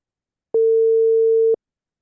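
Telephone busy tone heard while placing a call, a single steady electronic beep about one second long, loud and clean against silence.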